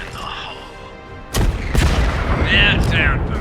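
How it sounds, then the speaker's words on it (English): Rocket strike explosions in Star Wars Zero Company land as two heavy booming hits in quick succession, followed by rumbling debris, with a voice talking over parts of it. "Rocket Strike's gonna wipe out all of them."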